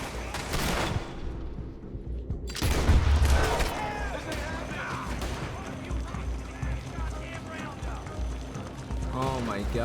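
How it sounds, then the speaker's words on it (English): Gunfire from several shooters in the Red Dead Redemption 2 game around Bluewater, Van Horn or Annesburg, crackling in scattered bursts with hoofbeats and someone talking over much of it. "Why is everybody shooting us"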